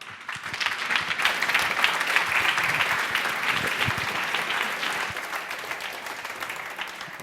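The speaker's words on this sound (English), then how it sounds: "So let's all give a warm welcome and applause to Tommy Hall." Audience at the clojureD 2017 conference in Berlin applauds to welcome a speaker, a dense burst of clapping that swells quickly, holds, then slowly thins out.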